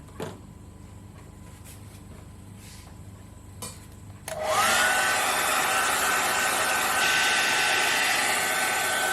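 A hair dryer switches on partway through and blows steadily to speed-dry a watercolor painting of a Mediterranean beach, a loud, continuous whoosh after a few quiet seconds with faint handling sounds.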